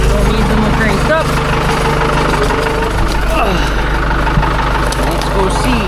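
A forestry forwarder stuck in muck idles with its revs turned down, a loud, steady low diesel rumble running unbroken throughout, with some talk over it.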